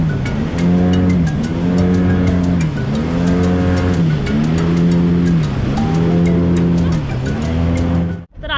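A speedboat on a lake drones loudly with a powerful motor whose pitch swells and dips in repeated waves as it cuts through the water, with a brief drop-out near the end.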